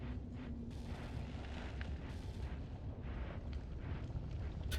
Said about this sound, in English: Something triggered an explosion there.